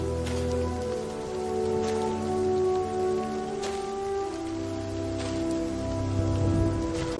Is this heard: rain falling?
yes